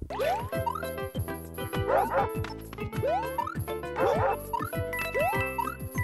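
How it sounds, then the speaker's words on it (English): Video game dog from a Mario level barks in repeated yappy bursts about twice a second, close and loud, over jingly game music. "let's try not to have the dog destroy us again"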